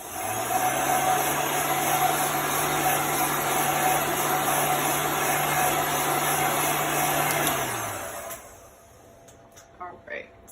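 A handheld dryer blows a steady, loud whirring hum for about eight seconds over a chalk-paste stencil, then cuts off, leaving quiet room sound and a few small taps.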